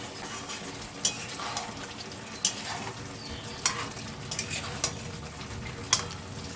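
Fried broccoli being turned in a pan, with a low sizzle under a few sharp clicks and scrapes of a spoon against the metal as the pieces are stirred.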